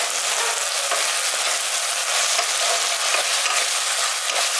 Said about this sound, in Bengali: এবার মিশিয়ে দিচ্ছি